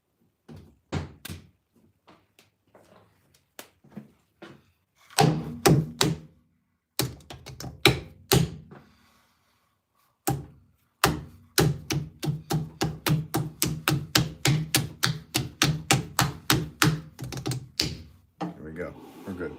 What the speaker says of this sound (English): I'm just getting another piece of clay together